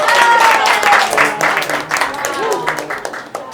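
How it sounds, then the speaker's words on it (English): Applause from a small crowd at a live show, clapping that tapers off while people talk over it. "Give her a nice big round of applause, everybody."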